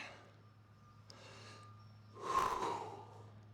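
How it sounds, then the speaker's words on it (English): Heavy breathing of a lifter recovering after a deadlift set, faint huffs and sighs with one louder, harsher exhale near the end, in a quiet room. "Breathing's just starting to get back to normal."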